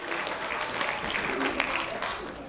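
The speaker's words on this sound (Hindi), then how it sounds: "खड़े हाथ करके तालियां बजाओ" Audience clapping at a Hindi comic poetry gathering in Sonipat, a steady dense patter of many hands filling the short stretch without a break.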